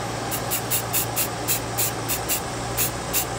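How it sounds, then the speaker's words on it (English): White Rust-Oleum spray paint hisses from an aerosol can in a rapid series of short bursts, about a dozen close, sharp sprays at an uneven rhythm over a low background hum. "So you just wanna make sure not to spray into the wind"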